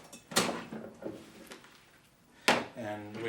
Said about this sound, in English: there we have your Moducase drawer